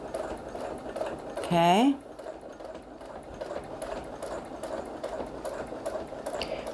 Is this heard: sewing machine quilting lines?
yes